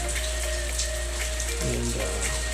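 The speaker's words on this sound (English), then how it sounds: "it's rainy season in the Philippines. As you can see, it's pouring." Heavy rain pours during the rainy season in the Philippines, a continuous dense wash of falling water and splashing drops, steady and fairly loud, with a faint tonal hum in the background and no speech.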